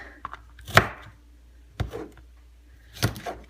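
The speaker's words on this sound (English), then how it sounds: "And then I just cut this little piece off down here into the garbage bowl" A kitchen knife cuts a small piece off food and drops it into a garbage bowl, with three separate sharp chopping thuds spaced about a second apart against a cutting board, close and fairly loud with no talking.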